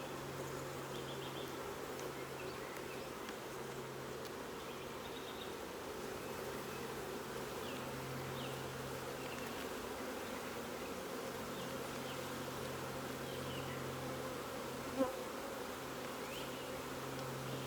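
Honeybees buzzing steadily around the frames of a small nucleus hive outdoors on a fine day, a dense continuous hum close by that holds even for the whole stretch, with one brief knock near the end.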